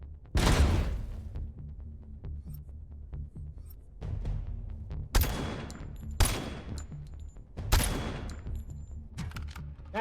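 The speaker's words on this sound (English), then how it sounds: "That's, that doesn't sound loud enough to be a 50 cal" Heavy machine gun fire in the Robocop video game comes as several loud, sharp bursts of rapid shots separated by short pauses, with keyboard clicks and game noise between them.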